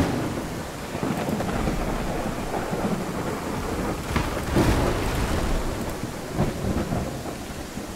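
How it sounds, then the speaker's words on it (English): A thunderstorm with steady heavy rain in the Viking village-building game Land of the Vikings, rumbling thunder swelling and fading over a constant hiss of rainfall, loud and continuous with no voices. "Holy heck! A storm!"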